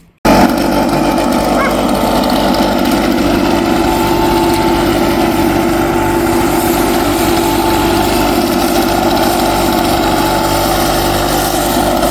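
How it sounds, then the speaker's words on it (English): Loud, steady engine drone of a leaf blower running close by, a constant rough whine with no pauses after a brief start. "Evil leaf blower."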